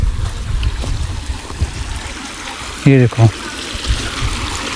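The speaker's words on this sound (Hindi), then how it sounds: "देखो कितना प्यारा पानी निकल रहा है।" A small waterfall spills water out of a mountainside, a steady broadband rush of flowing water running throughout, with a brief nearby voice speaking over it.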